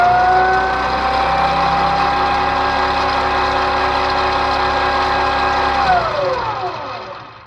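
The electric motor of a converted Farmall Cub tractor spins steadily with a smooth, even whine and hum, then winds down and fades near the end. No voices are heard.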